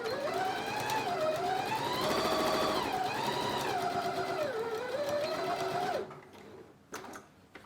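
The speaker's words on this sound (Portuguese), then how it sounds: "o legal da gente tá costurando na máquina de costura doméstica" A domestic sewing machine stitching fabric scraps hums steadily and close, its motor pitch rising and falling with the speed for about six seconds, then stopping abruptly and leaving a few faint clicks.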